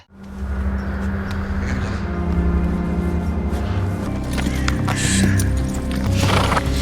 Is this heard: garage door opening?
no